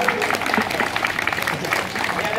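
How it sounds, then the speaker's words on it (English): Audience clapping for a unicycle street performer outdoors, a steady dense patter of many hands sustained throughout with crowd noise mixed in. "People will probably start clapping by now."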